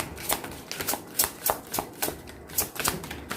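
Tarot cards shuffled by hand, a close run of rhythmic papery riffles and snaps repeating roughly every third of a second.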